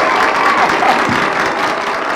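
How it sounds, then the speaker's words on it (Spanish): A crowd applauds a young musician at a live talk show, dense continuous clapping filling the room without speech. "quiero que le demos un aplauso"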